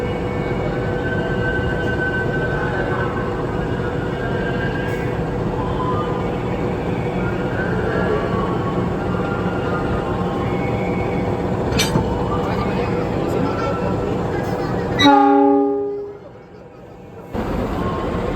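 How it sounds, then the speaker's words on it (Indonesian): A locomotive is coupled to an economy-class train at a station, with a continuous loud rumble and hiss of idling machinery and a sharp clank near the end before the noise drops away. People talk faintly in the background. "Lokomotifnya udah dilansir dan langsung disambung."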